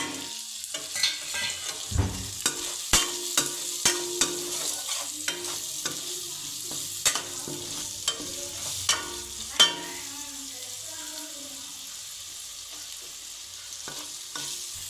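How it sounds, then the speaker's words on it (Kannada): Capsicum masala rice ingredients frying in a pan with salt and spices, a soft continuous sizzle broken by repeated sharp clacks and scrapes of a spoon stirring, spaced through the first two-thirds and then fading to a quieter sizzle. "ಇವಾಗ ಇದೆಲ್ಲ ಚೆನ್ನಾಗಿ ಫ್ರೈ ಆಗಿದೆ. ಉಪ್ಪು ಹಾಕ್ತಾಯಿದ್ದೀನಿ."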